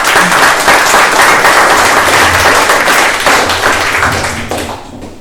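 A reading audience applauds as an author is welcomed to the podium, with dense clapping that starts loud and gradually fades away over several seconds, with no talking.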